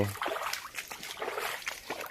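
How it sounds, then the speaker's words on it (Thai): Clear stream water runs and trickles close by in an outdoor fishing spot, with small splashes and sloshing throughout. "น้ำใสไหลเย็นเห็นตัวปลาครับ"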